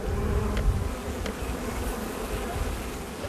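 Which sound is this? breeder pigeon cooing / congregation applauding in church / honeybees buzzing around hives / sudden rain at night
honeybees buzzing around hives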